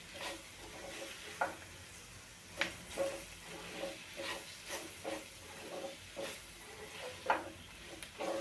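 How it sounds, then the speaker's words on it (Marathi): Spatula scraping and stirring roasted gram flour into capsicum sabji frying in a pan, with a soft sizzle underneath and repeated clinking strokes at an irregular rhythm. "बेसन टाकल्यानंतर ते संपूर्णपणे सगळीकडे लागेल असं तुम्ही बघा व्यवस्थित परतून सगळं घ्यायचं आहे"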